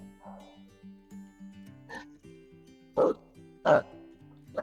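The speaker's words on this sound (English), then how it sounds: "Apologies for the dog." A dog barks indoors in three or four sharp, separate barks over a quiet musical backing, fairly close and loud against the soft background.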